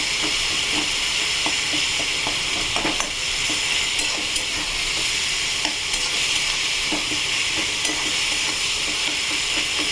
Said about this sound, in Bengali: মশলা থেকে তেল না ছাড়া পর্যন্ত এবার কষে যাবো মশলাটা ভালো করে